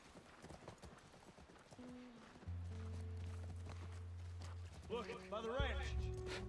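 A horse in the video game The Last of Us gives hoof clip-clops, a low steady hum, and a whinny near the end, set under a voice talking over the gameplay.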